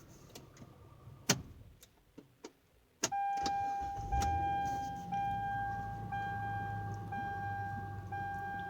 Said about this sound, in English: Let me shut it down and cut it back on.